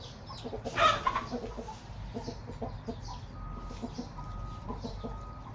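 Chickens cluck and call close by in a busy farmyard, with one louder squawk early on and a steady low rumble underneath.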